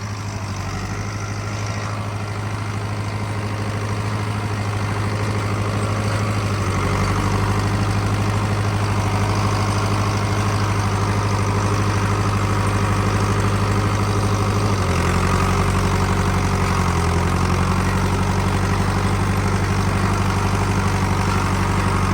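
A John Deere 500A diesel tractor pulls a disc up a hill, its engine chugging in a steady, heavy, low drone that shifts pitch slightly partway through, close and continuous without talk.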